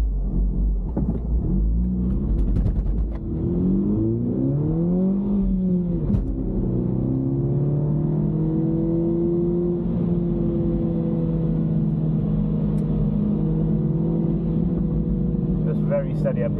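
A Mini Cooper S on track at Blyton Park, engine rumbling and revving up through the gears close by, pitch rising and falling steadily with continuous road and wind noise.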